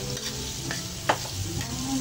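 Garlic sautéing in margarine, a brief close sizzle with a few quick stirring scrapes and one sharp clink, no voices.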